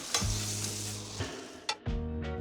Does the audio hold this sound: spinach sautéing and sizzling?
yes